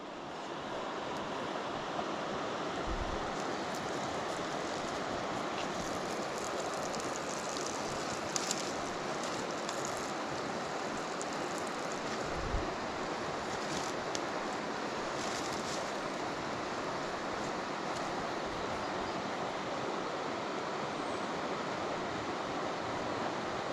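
Water at a tarn rushes steadily at close range, a constant broadband wash with wind buffeting the microphone. A few soft thumps stand out from the flow.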